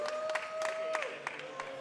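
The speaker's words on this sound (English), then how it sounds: "You hear the audience applauding for the players here." Audience applause for the players at a Tetris match: scattered, fairly soft clapping bursts rising and falling under a steady electronic game tone.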